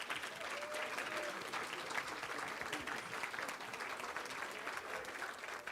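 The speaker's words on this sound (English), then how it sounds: "we would like to just give a grand round of applause for our pre-licensure students." Steady, full applause from a ceremony crowd honoring pre-licensure nursing students at a fall white coat ceremony, sustained and even throughout at moderate distance.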